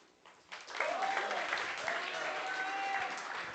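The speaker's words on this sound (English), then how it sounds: "Please give a round of applause for Rohin." Audience applause for a speaker at a kanthari TALKS 2025 event, rising after a brief pause into steady clapping that holds at moderate loudness, with faint tonal voices or whoops mixed in.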